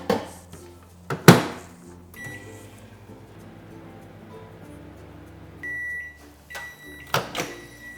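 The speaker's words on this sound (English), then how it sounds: "We're going to put it into the microwave in 30-second intervals" A microwave oven melting chocolate on high hums steadily at close range, with a sharp click or beep near the start and a few more clicks and beeps near the end.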